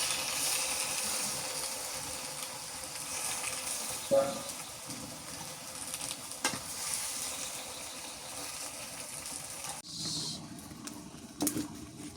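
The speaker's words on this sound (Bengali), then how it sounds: "এইটুকু পানি দিয়ে দিব, আর কোনো পানি দিব না।" Water pours into a pan of fish curry with greens, a brief close splash and gurgle over a faint background hiss, then quiet clinks.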